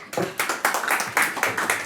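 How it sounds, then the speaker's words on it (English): Sparse, uneven hand clapping from a small audience at the ARCTIC15 LP Summit in Helsinki, welcoming a panelist; a handful of distinct claps and bursts repeat across two seconds, moderately close. "round of applause for Pierre"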